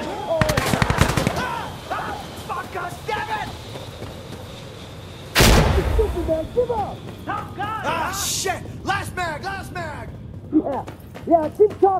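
Bursts of automatic gunfire from the video game Insurgency Sandstorm crack out near and loud, with rapid rattling volleys, a heavy blast midway and scattered shots, while people talk excitedly over the fighting.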